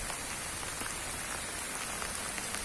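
Steady rain falling on a hilltop monastery between Claraval and Ibiraci, Minas Gerais, Brazil, a dense even hiss of drops spattering on surfaces with no voices, continuous and fairly close throughout.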